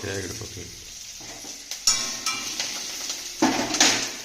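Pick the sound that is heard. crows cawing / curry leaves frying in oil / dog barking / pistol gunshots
curry leaves frying in oil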